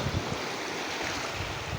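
Sea waves washing at a beach while someone bathes, a soft continuous wash of surf mixed with light wind noise, faint and steady throughout.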